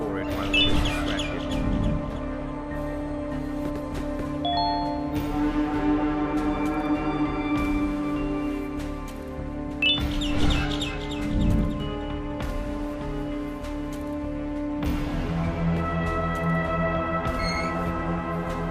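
Birds chirp and tweet in the video game Garten of Banban 6, with bright, repeated calls arriving in clusters about every five seconds over a soft, steady ambient bed.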